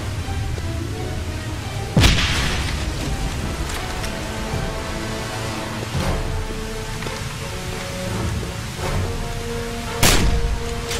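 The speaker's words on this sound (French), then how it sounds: "Il y a un sniper qui me tire dessus." Sniper shots ring out in the Wolfenstein video game, two sharp loud cracks several seconds apart over a steady backdrop of rain-like ambient noise, with a few fainter impacts in between.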